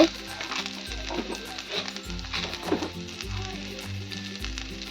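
Green chillies and spices frying in oil over low gas heat for chicken chaap, a steady close sizzle with irregular stirring and scraping clatter on top, no talking.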